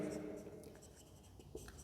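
Soft scratching of a pen writing on paper during a Class 10 geometry lesson, close and faint under a teacher's speaking voice and light room noise.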